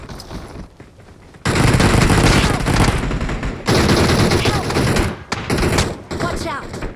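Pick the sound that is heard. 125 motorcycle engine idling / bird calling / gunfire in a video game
gunfire in a video game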